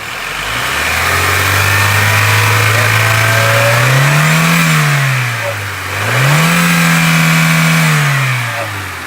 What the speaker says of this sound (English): I like most 90s vehicles. You can rev them.